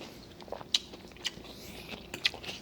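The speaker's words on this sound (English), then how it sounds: "Chewing with my mouth open." Someone eats a Southwest pork chopped salad from a Green Chef meal kit with mouth open, wet crunchy bites and chewing clicks coming close and irregular, a few sharper crunches standing out against quiet room background.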